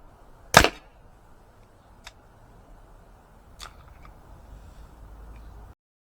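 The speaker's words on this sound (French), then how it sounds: "On tire quand même pas mal de chargeurs" An Umarex Glock 17 Gen 5 T4E training pistol fires one sharp, loud snap, then two fainter clicks follow some seconds apart over a quiet background.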